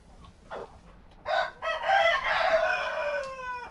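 A rooster crows loudly and close by, a long drawn-out call with a rising then falling tone, after a couple of brief clucks.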